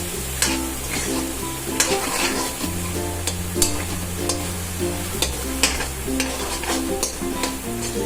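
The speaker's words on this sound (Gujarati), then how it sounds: "તેલમાં એકદમ સરસ રીતે ગ્રેવીને સોસડી લઈશું" Banana curry gravy paste is stirred and sautéed in oil, giving a soft sizzle with repeated scraping clicks of the spoon against the pan, over quiet background music.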